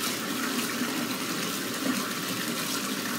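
Hot water runs from a tap into a bathtub with a steady, even gushing rush, close by and continuous, with no talk.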